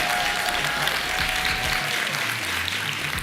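An audience applauds a journalist and bureau chief being introduced at a media event: a dense, continuous wash of clapping filling the room without a break.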